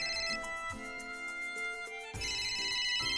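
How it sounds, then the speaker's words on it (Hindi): An electronic ringtone from a telephone with an incoming call plays a steady, repeating melodic pattern, clear and alone at moderate volume. "अरे आनंद भैया का फोन आ रहा है।"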